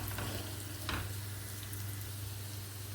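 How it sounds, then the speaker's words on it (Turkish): Washed rice toasts in hot oil in a pan with a steady close sizzle, while stirring adds a few brief scrapes and a low hum runs underneath. "Yağımın içerisine ekliyorum ve tane tane olana kadar kavuruyorum."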